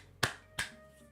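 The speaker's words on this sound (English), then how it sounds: "Round of applause." Two short bursts of clapping with a faint third, heard alone as crowd applause in the Sandrock video game.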